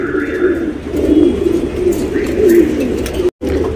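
A male tournament racing pigeon coos close by in low, throaty rolling calls, repeated steadily over a background of other birds, with a brief dropout near the end.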